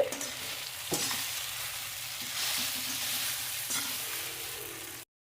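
Cut idli pieces being tossed and mixed in a pan with low heat, a soft continuous sizzle with a few spatula knocks and scrapes, close, ending abruptly in silence, no voices.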